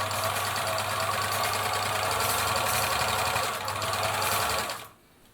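A Singer 700 series sewing machine running a straight stitch through fabric, a loud, steady mechanical whir with rapid needle chatter and a low hum, close by, stopping abruptly near the end.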